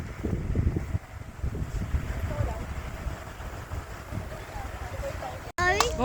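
Strong wind buffets the microphone on an evening boat trip, a constant low rushing roar under people talking, with a brief dropout near the end.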